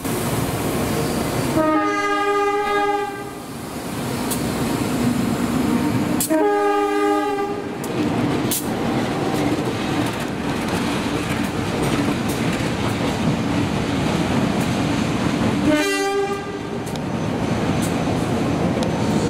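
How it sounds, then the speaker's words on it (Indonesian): A lone diesel locomotive runs straight through a commuter station, sounding loud, bright horn blasts three times over a steady heavy rumble and rail clatter, recorded close by. "Kemudian jalur 5-nya melintas langsung lokomotif 203 9803 CPN yang berjalan sendirian mengarah ke Pasar Senen."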